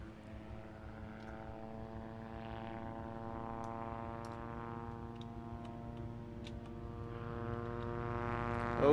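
A helicopter in Project Zomboid draws steadily nearer overhead, its droning rotor and engine hum growing gradually louder over several seconds, with no other sounds over it.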